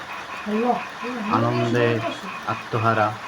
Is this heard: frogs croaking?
yes